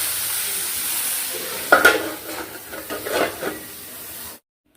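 Food sizzles in a hot pan with a constant hiss while a utensil stirs it in a few scraping bursts, before the sound cuts off abruptly.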